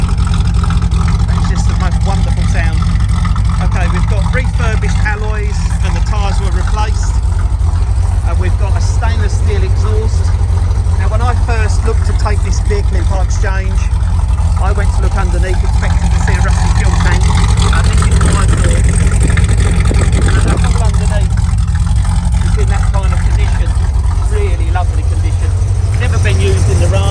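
A red 1976 Corvette C3 with a 383 cubic inch stroker V8 runs continuously in a deep, steady rumble, loud and close, with no talk over it.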